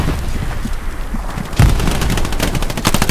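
Gunfire in the WWII shooter Hell Let Loose, a steady rattle of automatic and rifle shots with a louder nearby burst midway, layered over constant distant battle noise.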